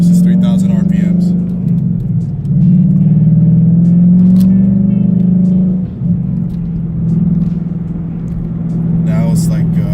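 Ford Mustang GT V8 with a Flowmaster Outlaw cat-back exhaust and Scavenger X-pipe, held near 3,000 RPM: a steady, loud, deep engine drone with a brief dip midway, under a man's speech.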